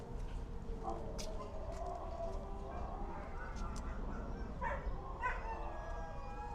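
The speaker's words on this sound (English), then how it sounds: "Oh my god, do you hear those dogs howling?" Dogs howl faintly in the distance at a Los Angeles cemetery, thin drawn-out wails and a few yips over a steady outdoor background hum.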